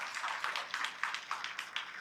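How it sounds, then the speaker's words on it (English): Applause from a crowd at a general membership meeting, steady patter of many hands clapping for a couple of seconds, moderately loud and fairly close. "Let's give him a round of applause, please."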